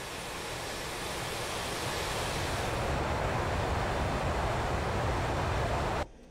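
A jet aircraft engine roars steadily as a plane rolls along the runway in the combat flight simulator DCS World, a broad continuous whooshing drone that builds slightly before cutting off abruptly near the end.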